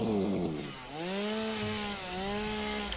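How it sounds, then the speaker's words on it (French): A chainsaw cutting down trees in the video game Satisfactory, its engine note continuous and loud, pitch sliding down and back up as the saw bites and frees, a steady droning buzz with no talk. "Ceux qui aimaient bien le son de la tronçonneuse, vous allez être servis"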